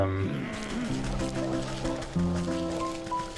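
A sheep bleats in the video game Wytchwood, a wavering cry over soft game music and ambient sound.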